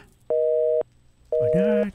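A telephone busy tone in a Minecraft time-travel animation, heard as two steady, loud beeps separated by a short silence. A voice-like sound briefly overlaps the second beep.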